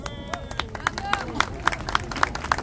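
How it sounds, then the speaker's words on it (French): Crowd at a Hanukkah candle lighting in Paris clapping in a loose, roughly even rhythm, individual claps standing out over chatter and a voice speaking. "on peut l'applaudir très fort"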